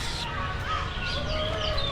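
Birds calling at Chynot Bird Park, a man-made forest park in Korat, Thailand, with several thin chirps and whistles at moderate distance over a constant outdoor background hum.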